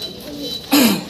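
An Andalusian pigeon gives one short, fairly loud coo while being held, rising in over faint background noise and low murmuring.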